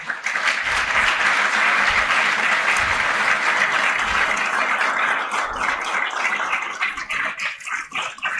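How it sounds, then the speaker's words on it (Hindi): A lecture audience at a convocation ceremony at Todarmal Smarak in Jaipur breaks into sustained, dense clapping that stays loud and steady for several seconds, then thins into scattered claps near the end. "जिन्हें जितना समझ में आया उतना वे तालियां बजाएं"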